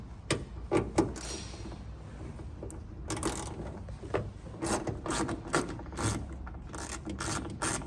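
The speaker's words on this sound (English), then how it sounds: "Inside those holes is a bolt, a screw with an 8mm socket." An 8mm socket ratchet backs a bonnet screw out of a GWM Cannon ute, giving irregular clicking and mechanical rattles at close range with no talk.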